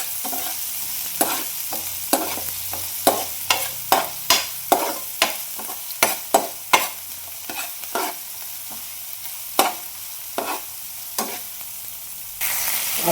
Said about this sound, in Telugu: తర్వాత పచ్చిమిర్చి, ఆనియన్ అయితే బాగా గోల్డెన్ కలర్ వచ్చేంత వరకు వేయించుకుందామండి.